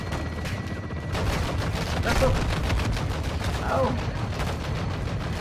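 Video game gunfire in a Call of Duty: Modern Warfare 2 campaign mission, with dense, rapid bursts of automatic fire running continuously under brief spoken exclamations.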